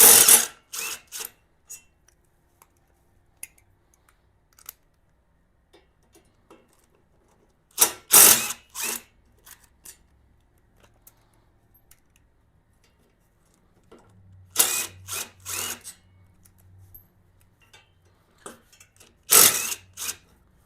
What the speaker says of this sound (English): Now I'm just going to take these bolts out.